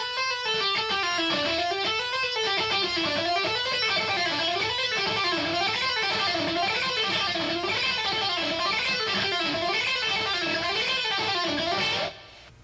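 A fast, continuous guitar phrase of rapid pull-off notes cycling up and down in a steady repeating pattern, loud and clear, ending abruptly.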